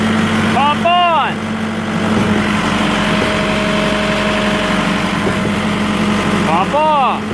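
A Putzmeister concrete line pump runs with a steady engine drone and a constant low hum, with a whining pitch sweep at the start and again near the end.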